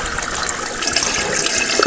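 Salt water pours steadily into a bucket, a continuous splashing, gurgling fill heard close up and alone, with no talking.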